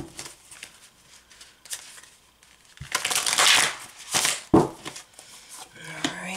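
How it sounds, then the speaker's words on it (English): Tarot cards being shuffled, quiet handling and soft flicks first, then a louder riffle and papery crunches near the end, up close. "So I'm going to do two more shuffles."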